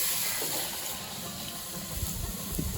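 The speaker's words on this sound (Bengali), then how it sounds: "এই যে পানি দিয়ে দিলাম" Water poured into a cooking pot, a soft close trickle and splash running steadily at low level, with no speech.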